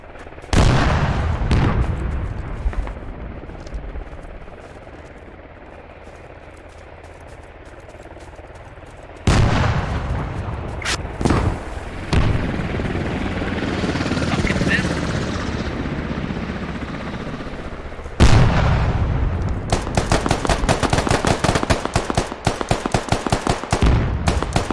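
Gunfire in a shooter video game scrim: bursts of automatic fire and sharp shots in clusters, the densest volleys near the start and end, over a steady droning background.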